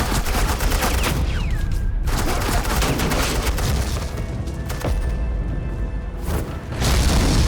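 Sustained automatic gunfire in Batman: The Enemy Within, loud suppressing bursts with heavy booms rattling on for several seconds, briefly dropping out twice before resuming close and intense.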